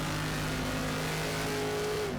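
A Group 5 race car in the Raceroom sim around Macau roars at a sustained high pitch, engine note steady and loud throughout with a slight rise near the end, no voices present.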